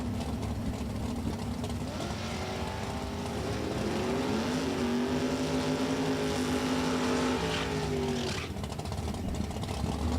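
A loud engine roars steadily, climbing in pitch as a 1968 Camaro with a 555 cubic inch Chevrolet engine accelerates hard in Super Gas drag racing against a Dakota pickup, then cuts off near the end.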